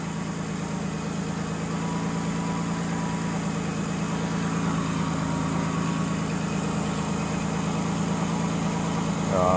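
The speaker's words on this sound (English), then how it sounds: "Maybe it's just the sound of the intake." Intake sound from the 3.0L engine of a 2006 Ford Taurus with a cylinder 5 misfire fault, idling at close range. The low, steady hum and whoosh continue without change, and no one talks.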